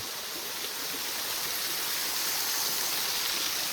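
Water from a village waterfall rushes steadily in a dense, unbroken hiss that holds an even level throughout, with no voices.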